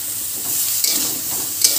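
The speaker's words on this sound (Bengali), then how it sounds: "ভালো করে নাড়াতে হবে" Paneer curry stirred in a pan with a little hot water, a spoon scraping through the thick mixture over a steady sizzle, with a couple of sharper scrapes standing out near the end.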